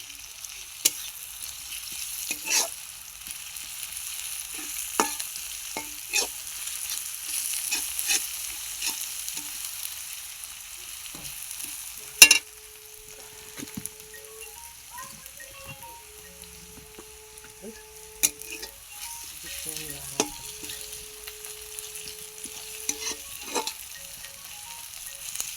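Garlic sizzling and being stirred in a pan while cooking village-style country chicken, a steady soft frying hiss with scattered scraping and clinking of the spoon against the pan, and a few brief tones in the background.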